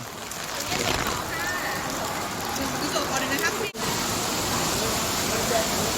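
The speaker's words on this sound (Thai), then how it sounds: "ฝนตกอีก กลางสายฝนเลยอะ" Rain pours at a football stadium during a Thai FA Cup match, a dense steady hiss that holds throughout with one brief dropout near the middle.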